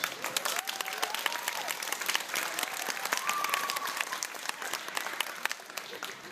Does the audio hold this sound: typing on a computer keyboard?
no